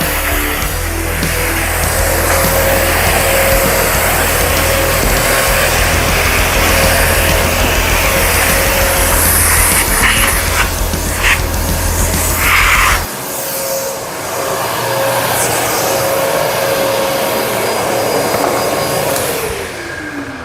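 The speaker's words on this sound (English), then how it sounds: "You can even use this as a vacuum cleaner." A vacuum cleaner runs continuously at close range with a steady whine, its motor pitch shifting partway through, cleaning drywall sanding dust.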